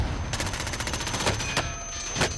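Bursts of SMG fire in Call of Duty Warzone ring out over a continuous noisy game backdrop, with several short volleys spaced a second or so apart, moderately loud.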